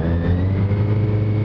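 Motorcycle engine droning steadily during a ride, a loud continuous low rumble with faint wind noise and no break for the whole moment.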